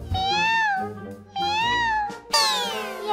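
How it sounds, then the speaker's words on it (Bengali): Three drawn-out cartoon cat meows in a Bengali fox fairy-tale animation, each rising then falling, the last one higher and more strained, loud and close with short pauses between. "এখন আবার বিড়াল কোথা থেকে এলো?"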